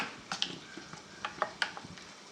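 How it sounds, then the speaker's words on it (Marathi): Roasted eggplant bharta mashed and mixed with a spoon in a bowl, soft irregular scraping taps and clinks at close range, quiet and alone. "असं वांग्याचं भरीत चमच्याने एकजीव करायचं।"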